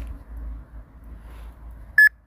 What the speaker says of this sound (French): Voilà, ça fait un bip